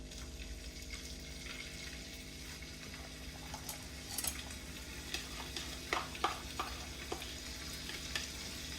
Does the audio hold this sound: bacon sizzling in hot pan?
yes